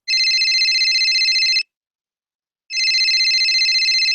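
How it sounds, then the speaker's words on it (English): A mobile phone rings in two long bursts of electronic trilling tone separated by a second of silence, loud and close, with nothing else heard. "it's my phone that is ringing because one of my patient's mother is ringing me"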